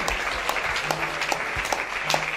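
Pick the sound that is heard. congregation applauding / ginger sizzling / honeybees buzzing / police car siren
congregation applauding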